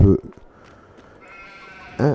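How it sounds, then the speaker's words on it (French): Sheep on a farm in Farming Simulator 22 give a short bleat at the start and another at the end, with a quiet game ambience and faint tonal sounds in between. "comme vous pouvez le voir, il y a les moutons"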